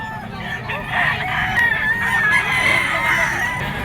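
A gamefowl rooster, a Cardinal Hats Gray with straight comb and green legs at a pet market, crows once in a long drawn-out call, close and clear over faint crowd murmur.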